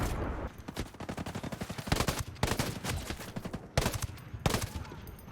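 Rapid automatic gunfire from a video game crackles in dense bursts, several long volleys separated by brief pauses, loud and close, with no talking over it.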